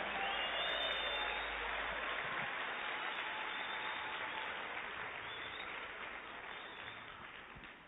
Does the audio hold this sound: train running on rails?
no